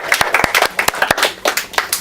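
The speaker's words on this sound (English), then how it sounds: "Can we give a round of applause to our neighbors at the top?" A small group claps for upstairs neighbors in a community organization's room, quick uneven claps close by and fairly loud, lasting only a couple of seconds.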